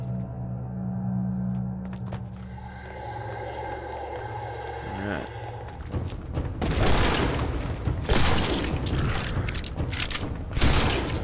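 Shotgun blasts in the zombie shooter game Zombotron, a mechanical ratcheting reload followed by a rapid series of loud booming shots with sharp impacts.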